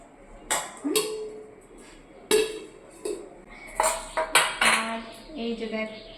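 Rice and fried vegetables of bitter gourd, pumpkin and okra served onto a plate, giving sharp clinks and scrapes of a serving spoon against dishes between stretches of talk.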